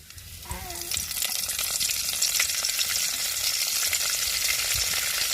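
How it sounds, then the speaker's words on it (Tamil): Urad dal and curry leaves drop into hot oil in a pan and burst into loud, crackling sizzling that swells after the first second and stays steady and close throughout. "எண்ணெய் சூடாயிருச்சுங்க, கடை உளுந்து போட்டுக்கிறோம். கருவேப்பிலை சேர்த்துக்கிறோம்"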